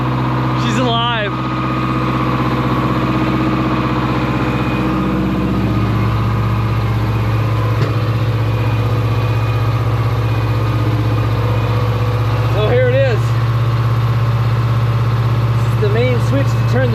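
A LeTourneau Tournapull D diesel-electric earthmover idles with a loud, steady low drone and constant hum, while people talk near the machine throughout.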